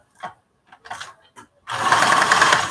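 A sewing machine stitching a project bag runs steadily and loudly for about a second after a few brief soft handling clicks and voice sounds.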